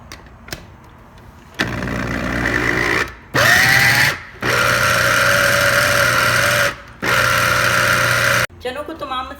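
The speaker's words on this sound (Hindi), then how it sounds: "अब हम चनों को ग्राइंड कर लेते हैं।" A kitchen grinder whirs in loud bursts as it blends chickpeas with spices into a thick hummus paste, several steady runs separated by short pauses, with a clattering stop at the end.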